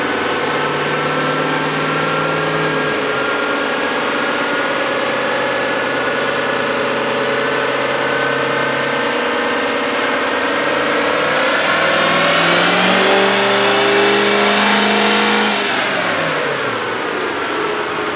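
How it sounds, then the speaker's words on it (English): A diesel L5P pickup truck with a 64mm VGT turbocharger revs hard on a dyno, its loud engine climbing steadily in pitch through a long pull, then peaking and dropping back, with no talk over it. "Let's hit it again on the dyno."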